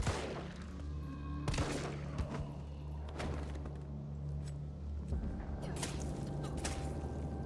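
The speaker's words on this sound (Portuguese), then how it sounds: "Oh, errei o primeiro tiro." Gunfire in the Resident Evil 3 Remake demo: several sharp, loud shots ring out at uneven intervals over dull thuds and game ambience, with no speech.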